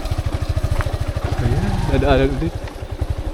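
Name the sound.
motorcycle riding at the beach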